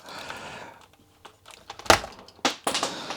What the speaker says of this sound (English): Time to do some keycap pulling.